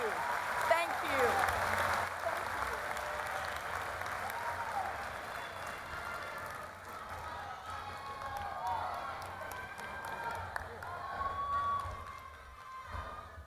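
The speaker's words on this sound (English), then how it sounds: "Please join me once again in giving a round of applause to the Honorable Senator from the Commonwealth of Massachusetts, Senator Elizabeth Warren" Sustained applause and crowd noise at a university commencement ceremony for a senator, filling a large space at moderate volume for over ten seconds, with a voice speaking over it.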